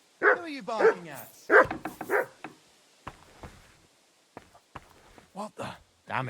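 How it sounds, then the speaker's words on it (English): A dog barks in the video game Kingdom Come: Deliverance II, several sharp close barks and yips in bursts, mixed with a voice talking in between. "Who are you barking at?"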